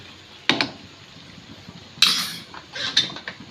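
A utensil scrapes and clinks against a pan as tomato ketchup is stirred into egg chili, with a few sharp metallic knocks and scrapes separated by quiet gaps.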